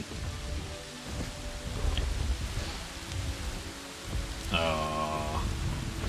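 Steady rain pours across a Jurassic World Evolution dinosaur park as a Triceratops is released, a continuous broadband hiss with low rumbles and brief game tones layered in near the end.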